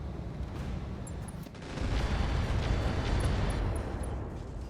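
Mech machine guns fire in the battle game RogueTech during an attack on a Firestarter mech, a dense continuous roar of rapid gunfire and rumbling impacts that grows heavier midway, with no talk.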